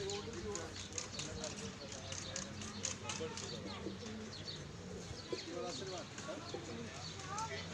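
Black pigeons cooing and fluttering close by at a cow shelter, with chirps from other birds and people talking over the top throughout.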